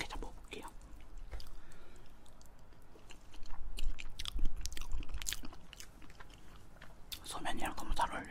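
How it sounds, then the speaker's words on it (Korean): Someone eats spicy boneless soy-marinated raw crab up close, with soft wet chewing, squishy bites and small slurping sounds in irregular bursts, louder in the middle and at the end, with no talking. "불지옥 순살 간장게장 먹어볼게요"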